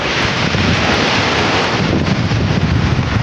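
Rough sea at Playa de Santo Niño beach in Zambales, a loud continuous broadband roar of surf mixed with heavy wind buffeting the microphone, steady throughout with no voices.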